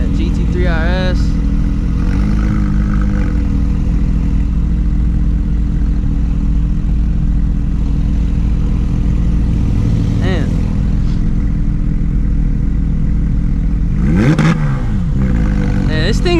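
A procharged 700 hp Shelby GT350 engine drones with a deep, steady rumble from inside the car, rising in brief revs near the start and again late on, with people talking over it.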